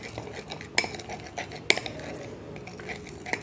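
A spoon mixing a potato juice face pack in a small bowl, with light scraping and a few sharp metallic clinks against the rim, close and quiet, no voices.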